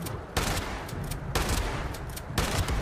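Three loud, booming shotgun blasts from the Fallout 76 video game, spaced about a second apart, each with a sharp crack and a lingering rumble, no talking.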